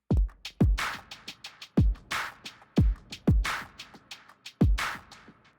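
A slow lo-fi drum loop of booming kicks, crunchy snares and ticking hats, the hits smeared by distortion and lingering reverb.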